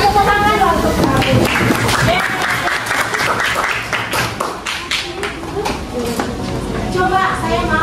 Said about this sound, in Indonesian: kasih tepuk tangan dong untuk kamu